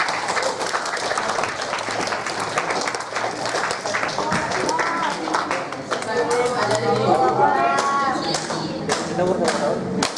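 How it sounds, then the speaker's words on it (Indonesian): Audience clapping fills a student sex-education training session: a steady, dense patter of many hands that runs the whole time, with voices and chatter mixed in underneath. "ada tepuk tangan dulu"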